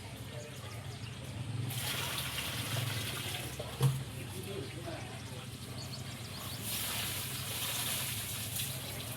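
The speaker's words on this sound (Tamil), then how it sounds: "பூச்செடிக்கு அப்புறம் கொஞ்சம் தண்ணி ஊற்றிடலாம்" Water is poured onto flowering plants in a home garden on a farm, coming as two steady splashing, hissing runs of a few seconds each with a soft thud between them, close by and moderately loud.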